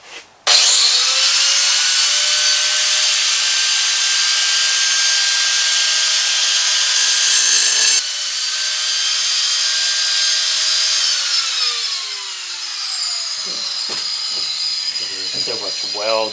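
A power saw grinds loudly and steadily through heavily welded metal for a DIY draw board build, a continuous high whine that drops in pitch partway through and winds down near the end.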